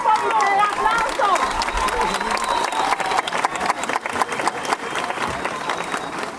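Crowd applause at the opening of a new university campus in Cali, loud sustained clapping mixed with cheers and chatter, with voices in the crowd.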